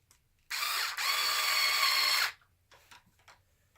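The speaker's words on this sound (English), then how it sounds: "And then you take your screwdriver and you take your two bolts." Power screwdriver driving bolts into a front bumper mount on a Traxxas E-Revo 2.0 RC car, one steady whirring run of about two seconds, close and fairly loud, followed by faint handling clicks.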